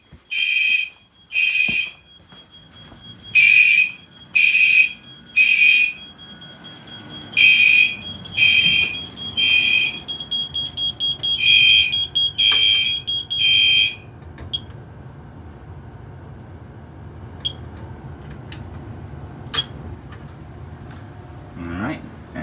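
During a test of a new Discovery fire alarm panel system, an alarm sounds in loud, repeated bursts of high beeping tones for about fourteen seconds, then falls silent.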